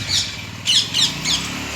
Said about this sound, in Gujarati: હા પોપટ આવી બેઠો